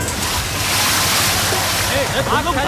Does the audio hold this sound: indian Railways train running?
no